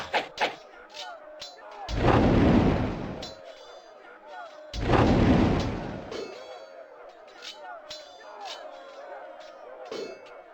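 Artillery fires in the Warhammer: Shadow of the Horned Rat strategy game: two heavy booming volleys a few seconds apart, each rolling for over a second, amid lighter metallic clanks and dings.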